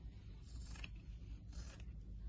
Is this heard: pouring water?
no